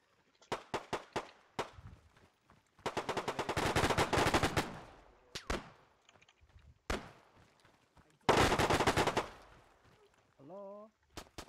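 Machine gun fire in Arma 3 comes as several loud sustained bursts broken by single sharp shots and short pauses, with voices talking between the volleys.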